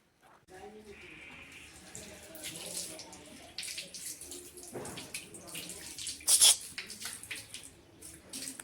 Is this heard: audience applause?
no